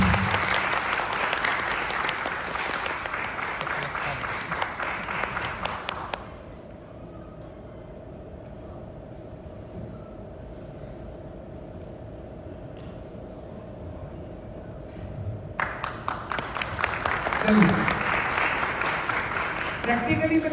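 A seminar audience in Lucknow bursts into loud applause, fades into a quieter stretch with a steady hum, then claps strongly again near the end.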